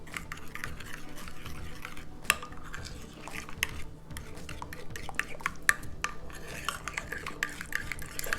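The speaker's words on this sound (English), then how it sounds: "and then we're just gonna mix it together" Meatball sauce being mixed together in a bowl, a steady scraping and stirring with utensils clinking against the dish, continuous and close with occasional sharper taps.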